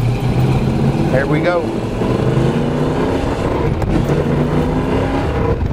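A 1969 Chevrolet Chevelle engine roars loudly and continuously from inside the car as it pulls through the gears, revs rising and shifting, with someone speaking briefly over it.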